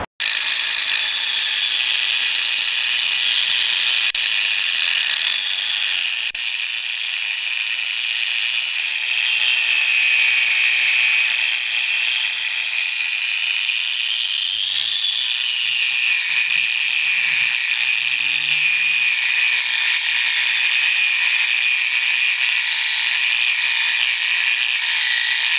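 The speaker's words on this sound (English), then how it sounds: "the next thing we'll use a weld spatter remover, and this will polish it up pretty good" A weld spatter remover tool polishes a steel T-bucket frame being boxed, giving a steady, loud high-pitched grinding whine that drifts slightly in pitch for the whole stretch, with no talk.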